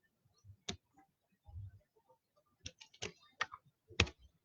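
Code being typed on a computer keyboard: sparse, close key clicks, some single and some in quick clusters, with short pauses between them in a quiet room.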